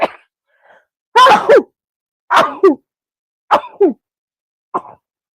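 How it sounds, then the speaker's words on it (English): A woman sneezes several times in a row, with four sharp, loud bursts separated by short pauses and a smaller fifth one at the end. A faint breath comes just before them. "I'm going to sneeze"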